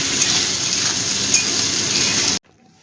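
Onion fries in a pan with a close, steady, loud sizzling hiss that cuts off abruptly near the end.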